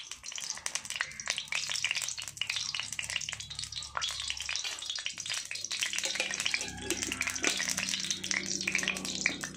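Oil heating in a black iron tawa for egg bhurji, giving a continuous close crackle and sizzle with scattered sharp pops and faint stirring, steady throughout.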